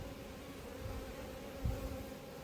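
Honeybees buzz at an open hive in an apiary, a steady, soft, continuous hum from many bees close by, with no talking.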